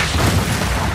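A frag grenade blasts in the Gears 5 video game, a loud, dense, low boom that fills the whole short moment without a break.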